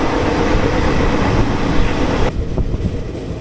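Steady rumble and rattle of the 06576 Summer Special from Palakkad to Bengaluru SMVT, heard from inside an AC 3-tier coach, loud and continuous, then dropping to a softer hum.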